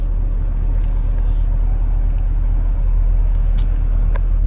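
A 2023 Chevrolet Camaro SS pulls out of a parking lot at night, its engine a low steady rumble heard from inside the cabin with faint clicks and no talk.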